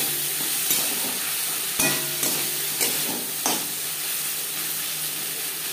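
Ginger and green chilli paste is stirred with onions and tomatoes in hot oil, making a loud, steady sizzle with a few sharp spatula scrapes against the pan, close up and without speech.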